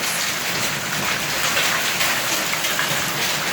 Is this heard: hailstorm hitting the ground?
yes